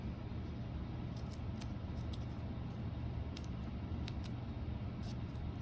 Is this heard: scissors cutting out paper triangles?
yes